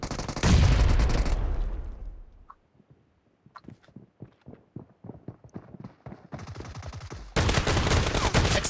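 Shotgun fire in BGMI, a team deathmatch limited to shotguns, starts with a loud blast and then goes quiet. A run of sharp, rapid shots follows and grows louder, ending in heavy, dense gunfire.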